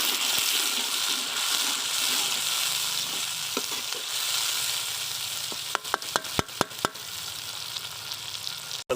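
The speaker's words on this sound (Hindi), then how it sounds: "तकरीबन 3 से 4 अदद टमाटर जो हैं दरमियानी साइज़ के कटे हुए वो टमाटर शामिल कर देंगे इसमें।" Chopped medium tomatoes hiss and sizzle steadily as they go into browned onions frying in a pan for aloo matar salan, with a run of sharp spatula clicks and scrapes near the end.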